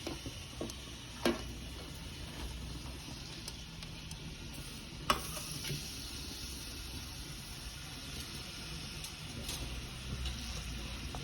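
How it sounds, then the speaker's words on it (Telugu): Onions fry in a pan on the way to browning, a soft, steady sizzle with occasional clinks and scrapes of stirring, fairly quiet and without talk. "వేసుకున్నాక ఆనియన్స్ వేద్దామండి. ఈ మగ్గనిద్దాం, బ్రౌన్గా వేగిద్దాం."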